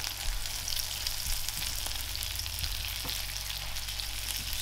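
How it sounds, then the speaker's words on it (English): Spinach hits a pan of softened mushrooms for a mushroom and camembert omelette, giving a soft, even sizzle over a low background hum, fairly quiet and without speech. "So now, I'll chuck the spinach in there."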